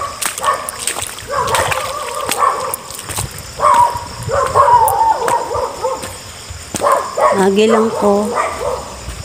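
At night outdoors, a dog barks repeatedly in loud, close bursts with splashing noise, while a person speaks quietly between the barks.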